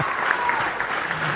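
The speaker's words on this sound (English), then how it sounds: "That crowd goes wild again." Crowd applause as a sound effect: a dense, steady wash of clapping and cheering, close and full for the whole short stretch, with no talking over it.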